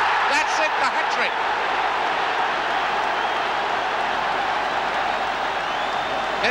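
A football crowd at Sunderland versus Bristol Rovers in December 1978 roars and applauds a hat-trick goal, a broad, sustained wash of cheering with a brief voice heard near the start.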